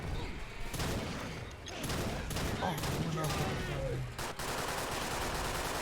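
Rapid bursts of gunfire from a Left 4 Dead 2 co-op game, with repeated volleys and brief pauses over a busy game soundscape, fairly loud throughout.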